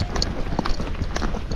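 A gaited horse backs up during a flat-walk training session, its hooves giving a few soft, uneven clip-clops over a steady background. Some low voice-like sound may be present.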